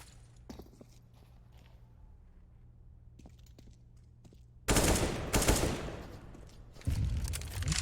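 Bursts of gunfire from Counter-Strike on the map Mirage during an ESEA match: sparse faint footsteps and distant shots, then loud, sustained automatic fire in two dense volleys with a short gap between.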